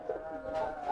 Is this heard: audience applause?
no